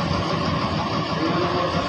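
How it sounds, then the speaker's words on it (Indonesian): The engine of the HR 033 bus idles steadily during an engine test after an accident, a dense continuous rumble at constant level with no voices. "Tes mesin."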